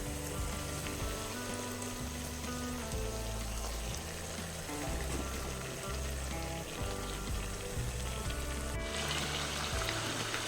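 Chicken pieces sizzle and fry in a cooked-down spice masala for a home chicken curry, a soft continuous crackle under steady background music.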